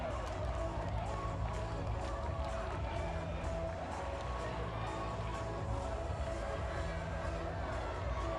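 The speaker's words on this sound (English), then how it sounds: "You can hear the reaction from the youngsters in the crowd as the balls go in" Young spectators in a stadium crowd at a women's under-17 European Championship football match, Sweden against England, cheer in a dense, continuous wash of crowd noise that holds steady and loud throughout.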